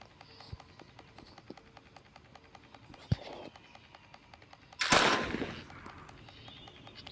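Gunfire in the video game Granny Chapter 2: a few sharp shots over a low hum, then one louder, noisy burst that trails off.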